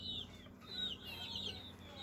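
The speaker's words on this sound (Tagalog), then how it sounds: "Mga manok ni guys. Guys, mga manok." Chickens cluck and chirp softly at a distance on a rural farm near a forest, a few short calls scattered over a faint outdoor hum.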